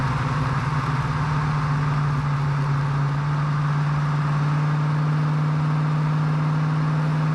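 A 1965 Ford Mustang GT's engine drones loud and steady while driving at speed, a constant low hum with road noise throughout.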